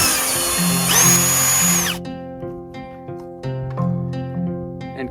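Power drill fitted with a star bit backing out the cover screws on a chainsaw, a loud close whine in short bursts with brief pauses between, tones rising and falling as the motor spins up and slows.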